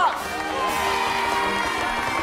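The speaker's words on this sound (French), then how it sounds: "Applaudissez-le bien fort, notre capitaine" A cartoon crowd at a camp art contest cheers and applauds its captain, a dense, steady roar of excited voices and shouts that holds throughout.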